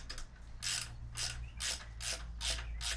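Ratchet running a bolt into rusty frame threads while installing an engine guard on a 2018 Harley-Davidson Sport Glide softail, with a steady series of about six rhythmic clicking strokes, close and fairly quiet over a low hum, no talking.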